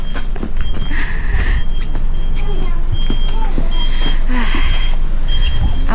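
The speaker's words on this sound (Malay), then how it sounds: "Ada lori, ada lori." A lorry reversing on a street in Istanbul sounds its backup beeper in a steady high tone, heard amid loud wind buffeting and traffic rumble, with brief voices in the background.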